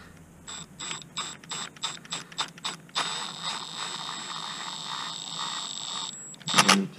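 A ratchet on a 5/8 deep socket turning a spark plug on a 2003-07 Honda Accord: a series of short rhythmic ratcheting clicks, then a sustained buzzing whir and a final clatter, close and clear.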